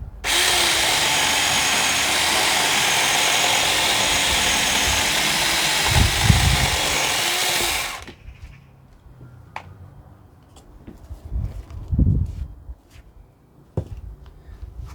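Saker mini 6 inch cordless chainsaw cutting logs, a loud steady close whine for about eight seconds that stops abruptly, followed by quiet handling knocks and rustles.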